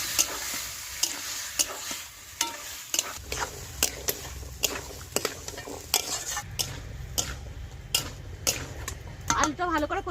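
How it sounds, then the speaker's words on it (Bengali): Diced potatoes stir-fried with spices in a pan sizzle steadily as a spatula scrapes and knocks against the metal in irregular strokes, close and clear, with no talk. "আলুটা ভালো করে কষিয়ে নিয়েছি।"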